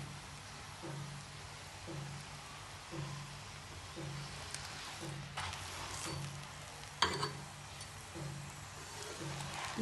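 A mooli paratha fries on a pan over full flame, giving a soft steady sizzle with regular low scraping thumps every second or so, near and quiet, plus a sharper crackle partway through.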